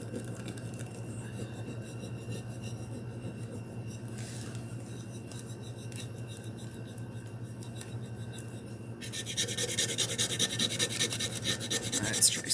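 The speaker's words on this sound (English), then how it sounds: "Let's try scrubbing in a slightly different way just to change the pressure on my hand." Steady close rasping scrub of foil being rubbed onto a thermal wine tumbler, a continuous gritty friction that grows louder and harsher near the end as hand pressure changes.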